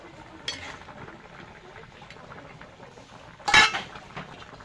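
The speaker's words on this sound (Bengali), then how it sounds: "ঢাকনা তুলে একটু নাড়িয়ে দেব।" A lid is lifted off a pot of simmering raw-tomato fish curry with potatoes, giving a sharp metallic clink, then a brief stir and a low bubbling in between, close and fairly quiet.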